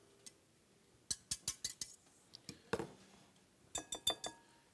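A mixing bowl handled during souffle preparation, with a series of bright glassy clinks and taps in quick clusters, close and crisp against a quiet background.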